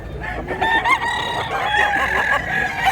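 A rooster crows at a Mantalungon, Cebu poultry sale, a loud drawn-out call with strained harmonics close by, amid other hens and fowl clucking and crowing in the background.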